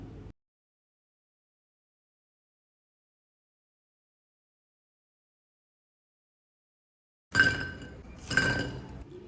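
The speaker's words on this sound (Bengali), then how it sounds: "আওয়াজটা শুনে তো বুঝেই গেছেন এগুলো কত বেশি ক্রিস্পি হয়েছে" Crispy deep-fried nimki snacks, drained of oil, clatter against each other and a dish in two short, sharp bursts near the end after a long silence.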